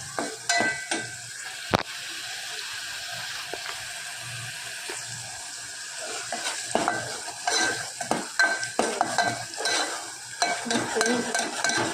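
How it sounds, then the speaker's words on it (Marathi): Thick spicy masala gravy is stirred in a pan, a steady soft sizzle with repeated spoon scrapes and clacks, louder bursts of stirring toward the end, no talk. "आपण घेऊया आता मस्त पैकी ना याला हलवून."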